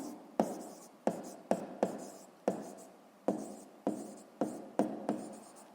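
A pen taps and scratches on paper while a math solution for a sixth-grade exercise is written out, in about nine sharp, evenly spaced strokes, close and quiet.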